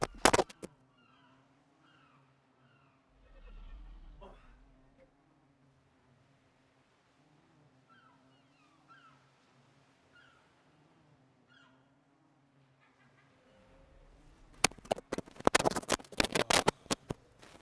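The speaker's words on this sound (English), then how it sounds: "He is our little terrorist cat sometimes, a lot of the time, but he is also our lovable little furball" A pet cat named Zorro gives a few soft, thin meows against a quiet room hum, then a loud burst of scratchy noise closes things out.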